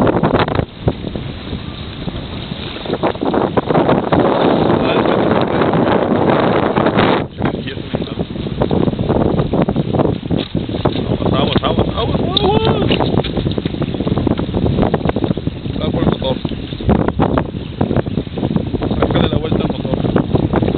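A motorboat runs on open water near South Padre Island amid heavy wind buffeting, a loud continuous churn of hull and wash with voices talking over it.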